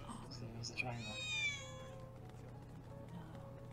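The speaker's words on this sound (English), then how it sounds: "there was a cat at the front door" A cat in the video game Final Fantasy VII Remake gives a short, clear meow with a rising then falling pitch over low background game ambience, while people talk around it.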